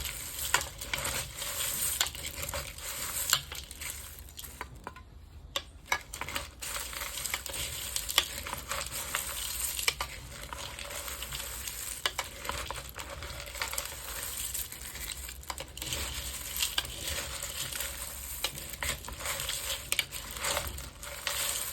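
Caramel-coated cornflakes tossed with cashews and raisins in a pan, a continuous close crunchy rustling and scraping with occasional sharper clinks, steady for the whole stretch and free of talk.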